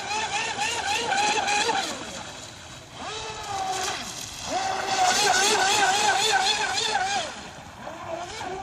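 A radio-controlled Hydrotek F1 boat's electric motor whines loudly at full throttle on takeoff, its pitch rising and dipping repeatedly, while people talk over it.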